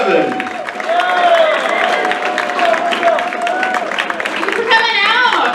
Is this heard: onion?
no